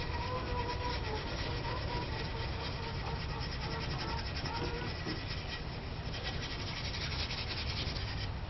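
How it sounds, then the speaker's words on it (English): Steady rubbing and scraping as steel wool buffs a handmade knife blade, continuous and close for the whole stretch with no pauses. "I'm going to do the final buffing with some steel wool."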